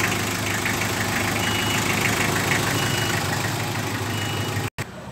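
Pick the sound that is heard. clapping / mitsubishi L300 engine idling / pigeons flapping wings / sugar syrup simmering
mitsubishi L300 engine idling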